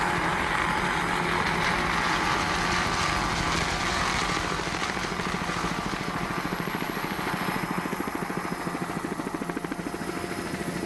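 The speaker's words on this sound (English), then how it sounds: "There's the Long Ranger helicopter with the aircraft carrier there in the background." A Long Ranger helicopter passes overhead at a Corpus Christi powerboat race with the USS Lexington aircraft carrier nearby, its steady rotor chop loud and continuous throughout, with a faint high whine above the beating blades.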